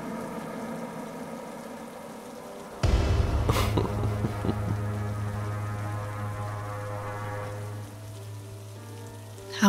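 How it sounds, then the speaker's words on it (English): Steady rain falls on a surface on a rainy evening, a dense continuous patter with a low hum setting in partway through and running on beneath it. "How is she going to go home in this rain?"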